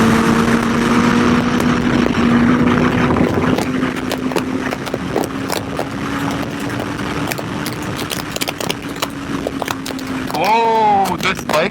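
A Kawasaki Z800 motorcycle engine drones steadily while riding, with wind rush and a quick rising rev near the end as the throttle opens.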